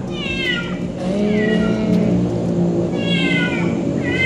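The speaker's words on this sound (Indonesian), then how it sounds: "ada kucing mau masuk on frame" A cat meows several times, close and insistent, with a low engine-like rumble running underneath.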